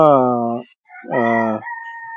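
A black Kadaknath chicken crows on a farm, two loud, close harmonic calls split by a short pause, the second trailing off into a thinner held note. No one speaks.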